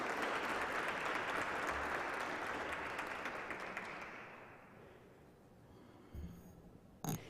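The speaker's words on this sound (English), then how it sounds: "Let's give him a big round of applause." An audience claps through a sustained round of applause at a MARTA employee recognition ceremony, dense and loud at first, then thinning and fading toward the end, with a couple of brief louder knocks near the close.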